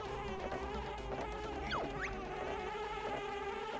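A steady insect buzz of bees in the video game Banjo-Kazooie hums continuously over a synthetic background, with a brief swooping tone in the middle.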